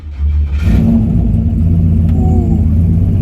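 Truck engine with a full 4-inch exhaust cranks and fires up, heard from inside the cab: a brief starter whir, then a loud, steady low rumbling idle.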